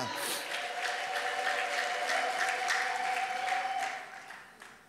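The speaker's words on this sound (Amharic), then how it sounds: "ታላቅ ጭብጨባና እልልታ!" Congregation at a church service applauding and ululating, a dense, sustained wash of clapping and high trilling voices filling the room at steady loudness before tapering off at the end.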